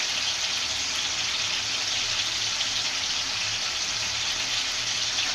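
Tomatoes simmer in oil in a pan for a hotel-style tomato thokku, giving off a steady, even sizzling hiss that holds without a break and has no talking over it.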